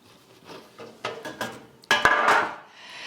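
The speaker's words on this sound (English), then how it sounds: "the first thing that we need to do is turn them out of the pan" Baked Hawaiian-style apple cider rolls turned out of their pan, giving a string of knocks and scrapes that builds to a louder clatter and rub near the end, close by and with no speech.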